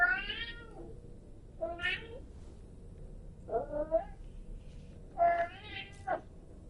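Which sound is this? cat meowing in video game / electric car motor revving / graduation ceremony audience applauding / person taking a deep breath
cat meowing in video game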